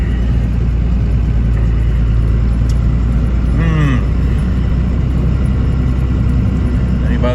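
A side-by-side utility vehicle engine runs steadily as a loud, continuous low rumble and whir throughout, on a farm where cows are being fed after a freezing rain; a short rising squeal or whine cuts through midway.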